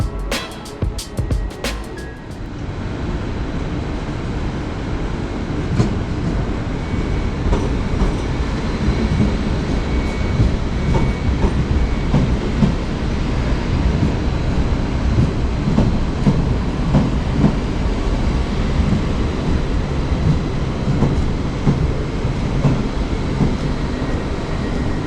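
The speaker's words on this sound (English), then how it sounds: "Here we can take a look at the arrival of my train at Stuttgart main station." A Westbahn Stadler Kiss 3 train arrives at Stuttgart main station, heard as a loud, steady rolling rumble with rhythmic wheel clatter and faint squeals, preceded by a few sharp clicks at the start.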